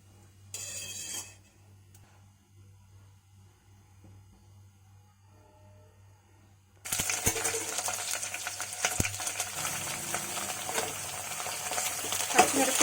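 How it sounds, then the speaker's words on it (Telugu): Green chilies, tomatoes and brinjal go into hot oil, and a loud, dense sizzle bursts in after a quiet stretch broken by one brief clatter. The frying then crackles on up close. "పచ్చిమిరపకాయలు, టమాటాలు, వంకాయలు వేసి బాగా వేయించుకోవాలండి."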